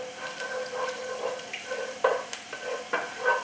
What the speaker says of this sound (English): once that oil starts sizzling, just fry that for about a minute and then turn that heat off